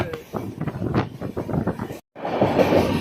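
A passenger train on the Rajahmundry to Hyderabad run skipping Moula Ali station, heard from aboard as a loud, steady rumble with rhythmic wheel clatter, broken by one brief dropout before the roar resumes.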